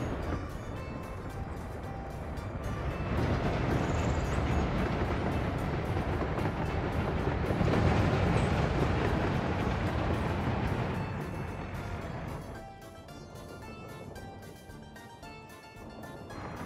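A freight train rolls along a rail line in the city-building game Workers & Resources: Soviet Republic, a steady rumble that swells in the middle and thins out toward the end, heard alone with no talk.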